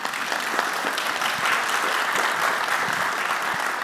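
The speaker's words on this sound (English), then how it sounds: "big round of applause" Audience at a FinOps conference applauding after a presentation, a dense, even wash of clapping sustained throughout at moderate loudness.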